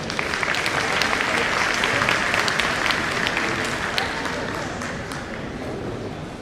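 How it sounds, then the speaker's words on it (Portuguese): An audience applauds at a talk on social projects for drug prevention, dense steady clapping that fills the whole stretch at a loud, even level and eases off slightly toward the end. "Uma salva de palmas para ele"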